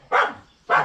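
Two sharp, close barks from a pet dog, evenly spaced about half a second apart, loud and clear with silence between them.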